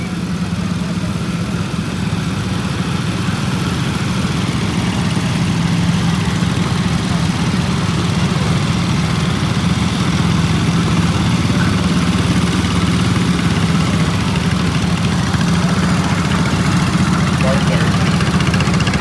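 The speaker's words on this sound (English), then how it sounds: "And up next we have a bunch of lawnmowers." A group of lawnmower engines idles at a tractor show, a continuous loud mechanical drone with a low steady hum that never lets up, while a voice talks over it.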